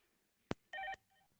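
A work phone gives a quick click, then a short electronic tone burst and a fainter trailing tone. The sounds are quiet and slightly distant in a hushed room.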